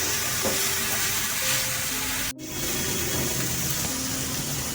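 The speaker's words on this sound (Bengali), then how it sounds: "কাঁচা রসুনের গন্ধটা যাওয়া অবধি আমি এটি একটু ভালোভাবে নাড়াচাড়া করব।" Garlic and chilli powder fry in a pan with a steady, close sizzle, broken by one brief cut midway. Faint scraping from stirring runs under it.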